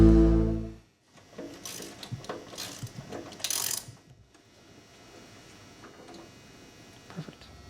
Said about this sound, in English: I'm going to remove both bolts on either side.